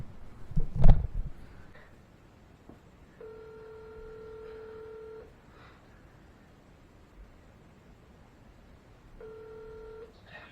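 Telephone keypad tones dialing a prank call, heard as two separate runs of steady dual-tone beeps after a loud thump, with a quiet room in between.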